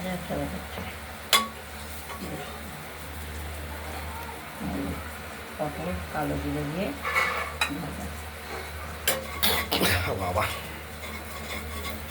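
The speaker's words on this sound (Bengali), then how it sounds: "পটল কালো জিরে দিয়ে ভাজা ভাজা" Chopped pointed gourd fries in oil with black cumin, a soft continuous sizzle with occasional clinks of a utensil against the pan and some low background murmur.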